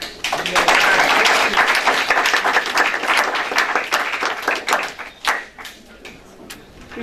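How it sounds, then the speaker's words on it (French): An audience applauds the women debaters at a parity debate, a burst of brisk, dense clapping that thins and tapers toward the end, with a few scattered claps lingering. "les charmantes dames que je vous demande d'applaudir"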